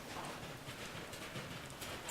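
Horse hooves clip-clopping steadily while riding forward, a soft continuous rhythmic patter close by without talk over it.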